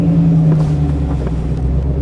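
A diesel truck pulling out into town traffic gives a loud, steady close-up engine rumble with a faint rise in pitch as it moves off.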